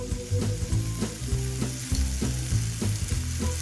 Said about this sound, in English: Rinse the salt off the aubergine and get it sizzling.